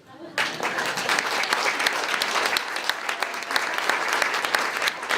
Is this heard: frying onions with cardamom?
no